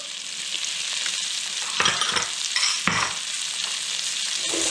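Shallot and garlic sizzling in butter in a brazier, a steady bright frying hiss with a couple of louder stirring bursts midway, close and continuous with no talking.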